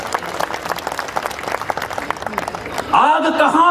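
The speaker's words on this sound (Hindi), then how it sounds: "इस पर तालियां कम बजी हैं आपकी" Audience applause breaks out at a Hindi hasya kavi sammelan (comic poetry recital), a short burst of clapping arriving after a stretch of someone talking.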